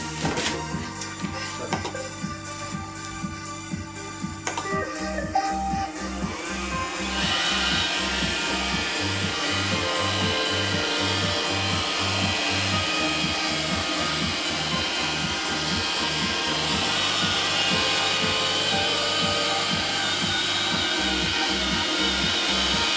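An iRobot Roomba 535 robot vacuum switches on and runs, a steady whirring motor hum with a repeating rhythmic pulse from its brushes, close by and continuous with no talking.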